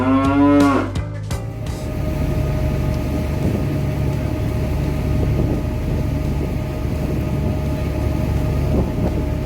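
Cows moo loudly near a harbour in Akaroa, New Zealand, with a few deep, drawn-out calls at the start, then a steady low rumble of a boat engine and wind.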